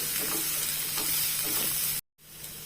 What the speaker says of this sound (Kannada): ಹಾಕಿ ಇದನ್ನು ಚೆನ್ನಾಗಿ ಫ್ರೈ ಮಾಡುವ.